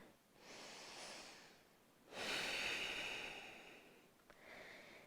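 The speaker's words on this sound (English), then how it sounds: "Taking about 2 or 3 more breaths." Slow, deep breaths drawn in and let out during a gentle slow-flow yoga class, soft and close, with a fuller exhale in the middle and quieter breaths on either side.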